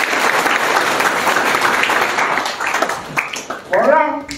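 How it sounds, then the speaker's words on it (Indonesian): A church congregation gives a sustained round of applause at a Sunday service at a theological college, steady and dense for several seconds, then thinning out as a voice begins speaking near the end. "Tepuk tangan bagi Yesus Tuhan."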